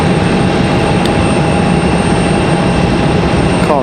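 An Aeromexico jet at Raleigh-Durham airport produces a loud, continuous engine roar with a steady whine running through it, heard alone and close.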